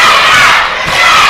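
A wrestling crowd at an Anarchy Wrestling show roars and cheers for Jacob Ashworth in a loud, sustained burst of massed voices that dips briefly, then swells again.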